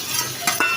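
A spoon stirs tomatoes and spices frying in a pot for a Pakistani daal mash, giving a steady sizzle with a couple of quick scraping stirs near the end.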